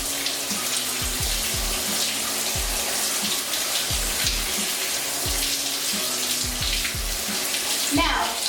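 Tap water runs steadily into a sink as hair is detangled under the stream, a close, hissing flow broken by soft, irregular low thumps and splashes.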